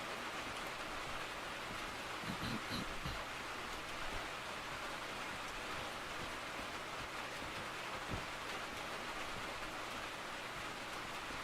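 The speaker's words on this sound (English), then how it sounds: "The soothing sounds of rain hitting metal sheet roofing." Soft rain falls on metal sheet roofing, a steady, faint, even patter with no breaks and no voices.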